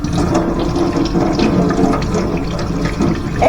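Tap water runs and splashes as tomatoes are rinsed under it in a home kitchen, a continuous rushing stream with small irregular splashes and no voices over it.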